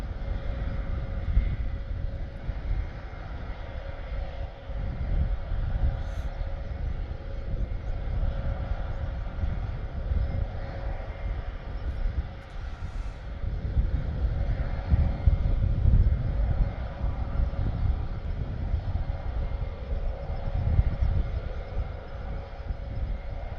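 An RAF Airbus A400M turboprop transport runs its engines on the ground before takeoff at Benbecula, a steady, loud, broadband roar with a faint tonal hum that holds throughout, with no voices.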